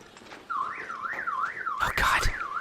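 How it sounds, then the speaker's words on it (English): A car alarm in the video game ARC Raiders wails loudly in a rising and falling siren pattern, repeating several cycles, with brief impact noises near the end. "Car alarms!"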